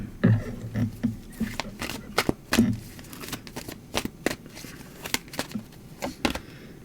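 Tarot cards shuffled and drawn by hand: a run of soft, crisp card snaps and flutters in irregular bursts, close and fairly quiet, with no talking over them.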